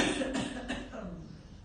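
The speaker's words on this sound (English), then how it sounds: "cough the breath out" A single forceful cough-like exhale pushed out during a yoga breathing exercise, followed by a softer second burst and fading breath, close and fairly quiet.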